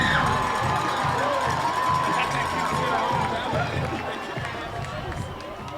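A high school football crowd roars and cheers loudly in the stands after a kickoff return touchdown, a dense sustained roar that eases slightly toward the end, with a commentator talking over it.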